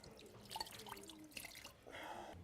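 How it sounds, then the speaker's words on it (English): Water dripping through a portable water filter into a cup during hurricane relief work, quiet irregular drips and small splashes, close and faint, with a brief trickling stretch toward the end. "I just filtered this water into this to drink."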